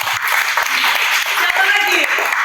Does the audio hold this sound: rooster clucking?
no